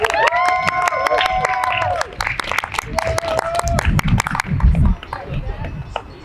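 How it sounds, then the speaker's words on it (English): Spectators at an American sumo wrestling event applaud national champions, steady clapping mixed with raised cheering voices that swell and then fade under the crowd. "Give them a round of applause."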